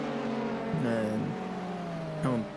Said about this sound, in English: two LMP2s just fly by the BMW GT4